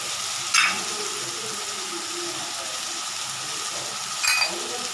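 Onions, garlic, green chilli and curry leaves sautéing in a pan give a steady soft sizzle, with two brief clinks of a utensil against the pan.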